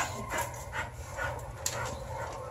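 A puppy whimpers and pants close up in a soft, restless run of high whines and quick breaths indoors.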